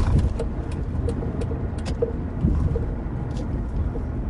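A manual car's engine drones steadily during a double-clutch gear change while driving, a moderate continuous rumble with small shifts in tone and faint clicks.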